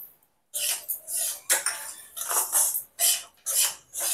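A utensil scrapes and stirs semolina with sugar in a pan, rough scraping strokes in short irregular bursts separated by brief pauses, close and clear with no talking.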